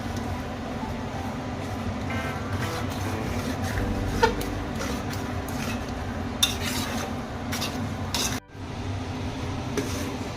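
A spoon stirs semolina roasting in a metal pot, scraping continuously and rhythmically close up over a faint sizzle. A few sharper clinks break in, and there is a brief pause near the end.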